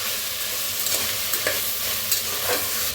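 Potatoes roasting in a hot pan while being stirred, a steady loud sizzle with scraping stirring strokes now and then and no talk.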